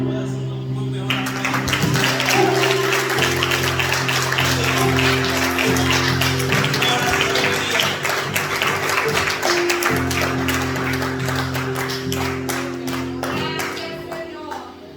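Church congregation applauding and clapping steadily for the full stretch, a dense continuous wash of hands over a sustained musical or voiced drone, loud and close, fading slightly at the end.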